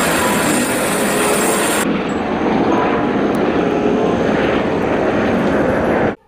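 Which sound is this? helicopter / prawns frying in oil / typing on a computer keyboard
helicopter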